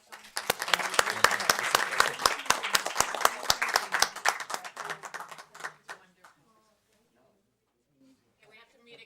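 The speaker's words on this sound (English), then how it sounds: "Can we have another round of applause for our outgoing?" A room of people at a county parks commission meeting gives a loud, sustained round of applause with sharp individual claps for an outgoing commissioner, fading out after about five seconds into quiet murmuring.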